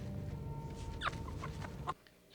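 Chicken clucking in a Fallout TV episode: a few soft clucks and a brief squawk over low background rumble, ending abruptly.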